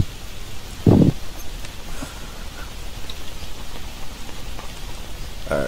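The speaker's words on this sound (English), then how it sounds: "rain is falling. Can't make fire here." Rain falls in the jungle survival game Green Hell as a soft, steady wash of patter, with a brief louder thud near the start and another at the end.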